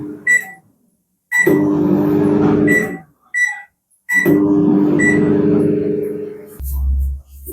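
A microwave oven roasting semolina (rava) hums in long sustained stretches broken by brief pauses and short beeping tones, ending on a low rumbling thump.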